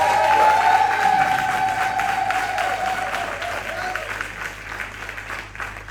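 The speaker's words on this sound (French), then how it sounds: "C'est comme ça que vous acclamez pour le pasteur Denis." Church congregation applauding for the pastor, a dense wash of clapping from a large crowd that starts loud and slowly fades over several seconds, with a sustained tone and voices faintly underneath.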